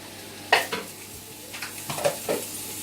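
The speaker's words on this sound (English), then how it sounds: "they're just simmering away quite nicely as well" Bolognese vegetables in a pan, soft sizzle under a few sharp clinks and scrapes of a utensil stirring against the pan, short and close, no talk.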